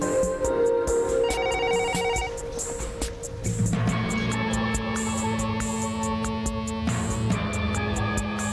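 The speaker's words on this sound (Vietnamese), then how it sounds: "Đội trưởng, điện thoại." A telephone rings repeatedly in a Vietnamese spy drama scene, an electronic ringtone chiming in steady bursts over background music, loud and close.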